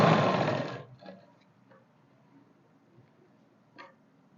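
An electric sewing machine stitching salwar fabric runs in a loud, dense whir for under a second, then falls to faint scattered ticks and taps in a quiet room.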